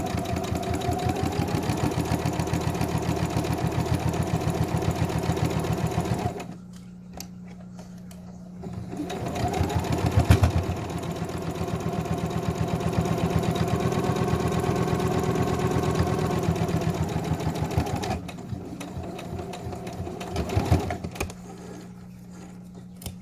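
A sewing machine stitches the open seam of a fabric mask in long, fast, steady mechanical runs, stopping twice briefly before resuming, loud and close with no talking.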